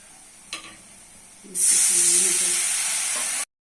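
Onion and spices such as turmeric, cumin, coriander and chilli powder hit hot oil in a pan for a home-cooked Bengali vegetable curry with potato and tomato, bursting into a loud, steady sizzle after a quiet start and a single clink.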